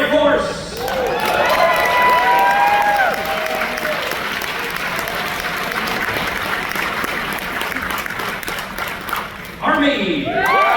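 Crowd cheering and applauding for Air Force veterans at a ceremony, a sustained wash of clapping with whoops and shouts over it, loud and full, and voices calling out near the start and end.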